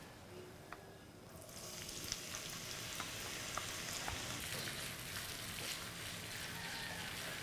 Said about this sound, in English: The oil is ready. Let's fry the chili.